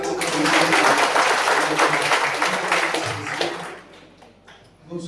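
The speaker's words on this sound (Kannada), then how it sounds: "ಒಂದ್ಸರಿ ಜೋರಾಗಿ ಚಪ್ಪಾಳೆ" A crowd at a religious gathering in Davanagere claps loudly in a dense, steady patter that gradually thins and fades toward the end.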